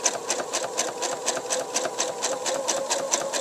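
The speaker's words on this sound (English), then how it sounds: "I'm just going to go ahead and stitch" A PFAFF sewing machine fitted with a top stitch foot runs steadily at stitch length 3, a fast, even mechanical chatter of needle strokes close to the microphone, with no talking.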